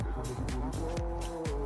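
A car is driven in a shooter video game, its engine rising and falling in quick repeated revs, quiet and close with no other sounds.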